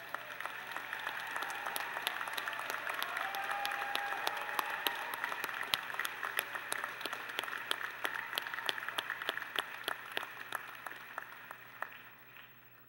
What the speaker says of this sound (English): Let's give a hearty applause to those who have already passed.